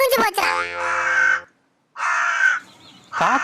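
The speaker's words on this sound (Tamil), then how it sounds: "காக்கா என்னடி சொல்லுது?" A crow caws in loud harsh calls close by, two long bursts separated by a brief silence, then another cry starting at the end.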